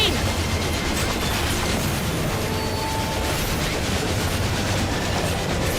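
Final Fantasy XIV Omega raid Ghost Train thundering continuously, a loud steady rail rumble with clanking mechanical bursts and occasional metallic squeals, dense and unbroken.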